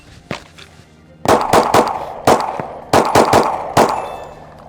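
Glock handguns fire about eight sharp, loud shots at targets, some spaced apart and others in quick bursts, each crack ringing briefly before the next.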